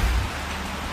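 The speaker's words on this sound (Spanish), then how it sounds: "Empezó a llover alrededor de las 5 de la mañana y acaba de comenzar a lloviznar" Rain and light drizzle fall in the city of McAllen in the early morning, a soft, even wash of noise with a low rumble at the start and no voices.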